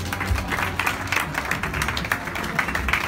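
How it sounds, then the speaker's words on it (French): Dense applause from a crowd, steady clapping throughout with no pauses, fairly loud and close. "On peut les applaudir vraiment bien fort."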